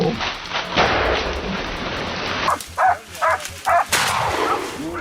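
Hunting dogs bark in several loud, close bursts while cornering a wild boar in dense woodland, the yelps rising over a rough, noisy outdoor background.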